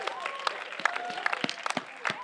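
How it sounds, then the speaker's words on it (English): Scattered applause for the staff at a Fourth of July community celebration, fairly quiet and sparse, with claps and a few cheers mixed with background chatter. "So if we can please give them a round of applause."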